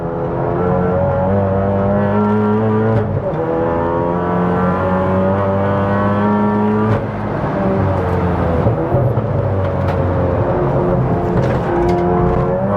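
A Volkswagen MK7 Golf R track car's engine revs hard and shifts up through gears repeatedly on a race track, the steady whine climbing and dropping as the car speeds along.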